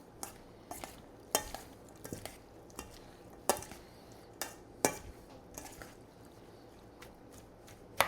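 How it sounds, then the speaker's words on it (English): Fresh pico de gallo salsa is mixed in a bowl, with a spoon clicking and scraping at irregular intervals over a quiet background and no talking. "let's mix it up again."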